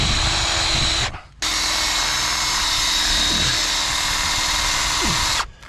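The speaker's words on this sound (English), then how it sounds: "we need to drill at the bottom of the 4x4" A power drill with a dull spade bit bores into a 4x4 wooden post with a loud, steady high whine, stopping briefly once and cutting off near the end.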